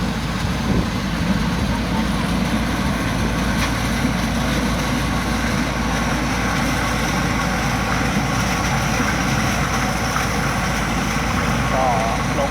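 A steady, low Cummins diesel engine on a corn harvester rumbles continuously at close range, a constant heavy drone with no pauses.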